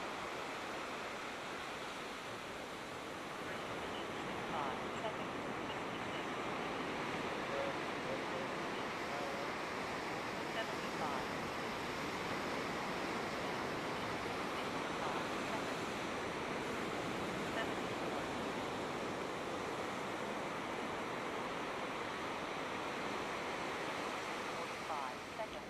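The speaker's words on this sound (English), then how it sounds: "You're going to get whacked by the waves, dude." Ocean surf at high tide rolls in as a continuous broad wash of breaking waves, steady and fairly loud, with no distinct lulls between swells.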